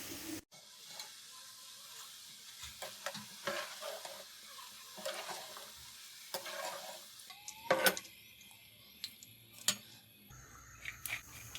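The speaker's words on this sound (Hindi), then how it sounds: "अब हम इनको छन्नी की मदद से निकाल लेंगे।" Golden potato fingers sizzle in hot oil in a karahi as a strainer stirs and lifts them out, with a steady frying hiss broken by scraping and clinking metal taps.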